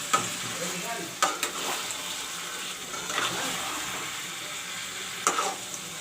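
A steady, crackling sizzle of marinated chicken frying in hot oil, with a few faint clinks and stirring sounds.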